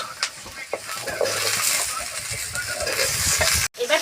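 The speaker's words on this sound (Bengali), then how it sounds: "এবার আমি পুঁই শাক আর আলু ঢেলে দেবো।" Malabar spinach and potatoes tip into a hot pan of seasoned masala, bursting into a loud close sizzle with stirring scrapes throughout, cut by a brief sharp clatter near the end.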